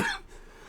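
One short, sharp cough from a person, close and fairly soft, fading quickly into room quiet.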